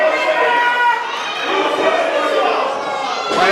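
A wrestling crowd at an ACCW indie show cheers and shouts continuously, a dense, loud wash of voices with children's yells mixed in, rising and falling slightly but never stopping.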